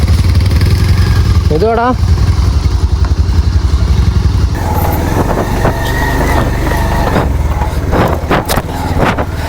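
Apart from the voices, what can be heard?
motorcycle engine running after restarting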